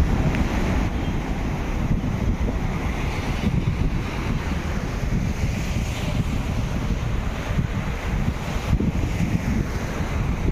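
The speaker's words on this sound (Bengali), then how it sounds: "ঢেউটা দেখো" Sea waves break at Tajpur beach in a steady roaring wash of surf, mixed with heavy wind buffeting the microphone.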